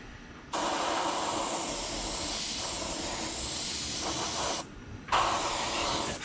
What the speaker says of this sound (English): Spraying at about 20 psi so we don't get a lot of overspray and all that bad stuff.